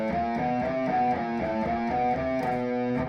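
Guitar playing a descending alternate-picking exercise pattern, steady rapid picked notes in even rhythm with a slightly driven tone, close and moderately loud, no talking.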